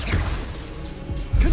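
Confringo fire spell blasts in the Hogwarts Legacy video game: a loud impact near the start, a muffled whooshing stretch, then another heavy crash-like burst at the end.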